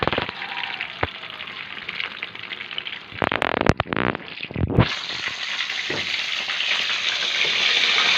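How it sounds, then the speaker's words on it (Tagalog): Food fries in a pan for lunch with a steady sizzling hiss, broken midway by a burst of crackling and stirring clatter, then the sizzle swells louder and brighter toward the end; no talking. "Nagpiprito tayo."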